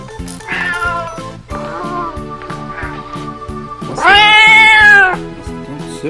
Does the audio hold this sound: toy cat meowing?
yes